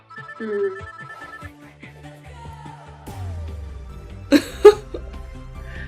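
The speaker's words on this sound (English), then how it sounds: "Phone is ringing." A phone ringtone plays as a short melodic electronic ring near the start, followed by assorted chimes and sound effects with two loud bursts near the end.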